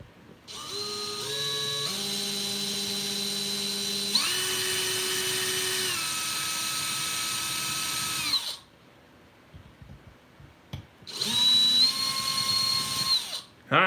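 A power drill bores out a rivet on a truck build, its high whine running in long sustained bursts that change pitch as the bit bites, then stopping before a shorter final burst.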